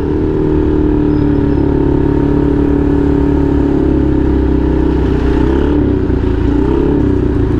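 A customized stance-style Yamaha Mio motor scooter, over 200 cc, is ridden at an easy pace, its engine a loud, close, continuous drone with slight shifts in pitch and no talk over it.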